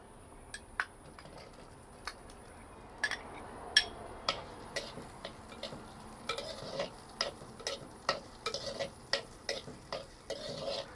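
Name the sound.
frying onions in oil on medium flame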